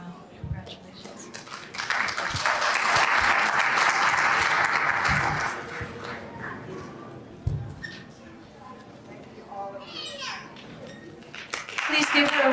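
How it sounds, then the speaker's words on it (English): A community Diwali gathering breaks into loud applause that swells, holds for a few seconds and then fades, while adults and children talk around it, with a brief burst of clapping returning at the end. "Please give her a round of applause"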